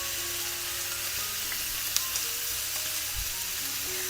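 Vegetables and duck breast stir-frying in a wok give a steady, close sizzle and crackle with a few light scrapes of stirring, and no talk over it.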